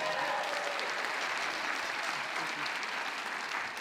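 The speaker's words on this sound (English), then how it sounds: "Big round of applause, everybody." Conference audience applause at a keynote session, dense and sustained clapping from a large room that holds steady throughout without a voice over it.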